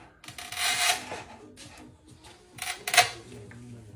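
A budget manual tile cutter runs its scoring wheel across glossy porcelain tile, giving two bursts of close, dry rasping scrape with quieter handling between them.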